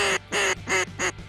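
A duck call imitates a gray duck, similar to a hen mallard but more drawn out, giving four loud, nasal quacks in a steady rhythm at close range.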